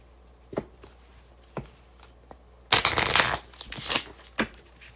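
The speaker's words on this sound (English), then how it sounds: "We'll do another shuffle." Tarot cards being shuffled by hand, starting with a few soft separate flicks and then a loud dense riffling burst partway through, followed by a couple more crisp snaps, close up with no talking.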